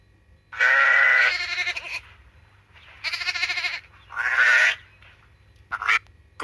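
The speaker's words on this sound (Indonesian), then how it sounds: "domba" A sheep bleats several times close by: a long wavering cry, then two more spaced bleats and a short final call, each loud and alone against quiet.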